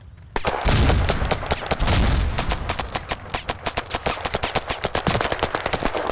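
Rapid automatic gunfire in the video game Battlerush 2, a dense burst followed by steady, evenly spaced shots, loud and close with no talking.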